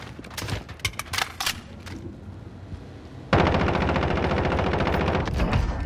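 Gunfire in Call of Duty: Modern Warfare, scattered shots at first, then a sudden sustained burst of dense rapid automatic fire that continues loudly to the end.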